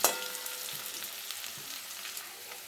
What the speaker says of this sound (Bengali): হলুদ দিয়ে আলুগুলোকে ভেজে নিলে কালারটা খুব ভালো আসে।